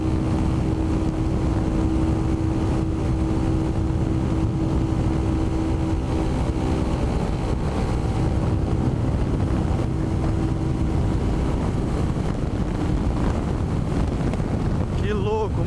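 Kawasaki Ninja 250R motorcycle with a full aftermarket exhaust, its engine droning steadily and loudly up close throughout, with a constant low rumble and steady tonal hum.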